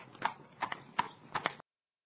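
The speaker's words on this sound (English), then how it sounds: "Donkey." Donkey sounds from a children's common-animals learning app: four short rhythmic hoof-like clops, close and moderately loud, then silence.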